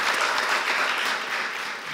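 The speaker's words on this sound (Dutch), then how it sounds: "Vandaar een hartelijk applaus voor Ingrid Robijns." Warm applause from a seated audience at a Dutch book presentation evening, a steady dense patter of many hands clapping throughout without letting up.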